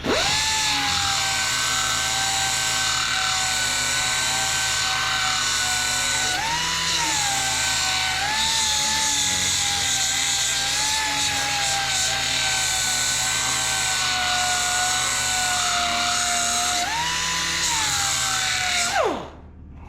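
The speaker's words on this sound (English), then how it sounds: "let's just keep sharpening here because I don't think we're going to be a whole lot longer with these" A power tool grinds steadily and loudly, sharpening the blades of a John Deere 62D mower deck, its pitch dipping slightly under load several times before cutting off at the end.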